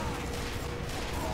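Rapid gunfire from Team Fortress 2 on the 2Fort map, a dense, continuous burst of mechanical shots that fills the whole moment at steady loudness.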